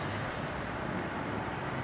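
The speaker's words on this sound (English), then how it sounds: "Cars going by." Steady traffic on a downtown street in Ripley, Mississippi, with cars rolling past in a continuous moderate wash of road noise and no clear single pass standing out.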